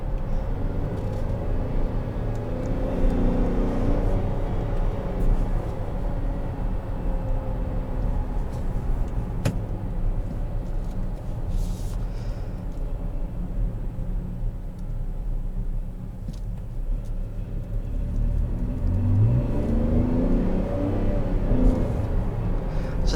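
Inside a 2020 Chevrolet Traverse RS with its 3.6 engine accelerating in low gear, there is a steady low rumble of engine and road noise, continuous and moderately loud, rising slightly toward the end.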